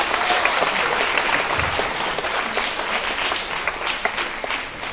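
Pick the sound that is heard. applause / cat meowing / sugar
applause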